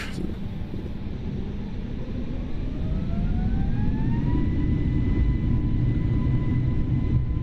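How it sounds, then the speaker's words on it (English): Airbus A320neo engines spooling up to takeoff power in a flight simulator, a loud steady roar with a tone that rises and then holds, with no talk. "We'll just set our takeoff power."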